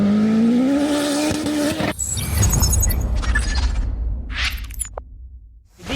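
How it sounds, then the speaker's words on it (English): A Wildcat buggy with a turbocharged Honda K-swap engine roars at high revs, then cuts off sharply into gravelly rumbling, crunching and whooshing as it passes, with a couple of brief high whines before a final rise. "This is a Wildcat buggy with a Honda K-swap."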